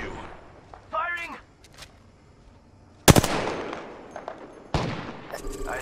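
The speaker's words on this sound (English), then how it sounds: "Firing!" Bursts of automatic gunfire in the Apex Legends battle royale game, a short burst early then loud, sharp volleys around the middle and end, with a voice speaking between shots.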